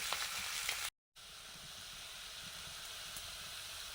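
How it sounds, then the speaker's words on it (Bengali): Chicken sizzles steadily in hot oil with crushed ginger, garlic and chopped capsicum, a continuous broadband hiss that briefly cuts out near one second before resuming at the same even level, with no voices. "চিকেনটা রেডি করে নিচ্ছি তেল দিয়ে আদা রসুন ছেঁচো দিলাম"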